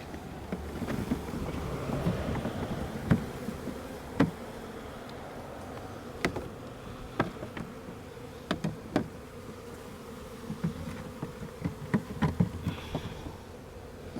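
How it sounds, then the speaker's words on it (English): A soft, steady buzzing of a honey bee swarm on a fence hums throughout, with occasional light knocks and clicks of hive frames nearby; no talking. "it does smell like bees"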